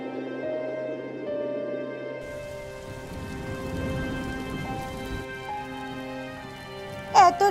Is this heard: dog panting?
no